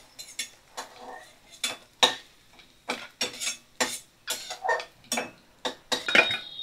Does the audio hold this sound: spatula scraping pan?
yes